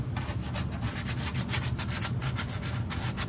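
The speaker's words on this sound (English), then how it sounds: "sand it down to make it nice and smooth" Steady rasping of sandpaper worked back and forth over plastic Stormtrooper armour calf pieces after dremel trimming, a continuous close scratchy rubbing with rhythmic strokes and no talk.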